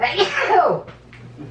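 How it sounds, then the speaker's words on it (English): A single sharp human sneeze at close range in a home kitchen, a loud burst that trails off quickly, followed by a short quieter vocal sound. "Uh-oh, I gotta sneeze."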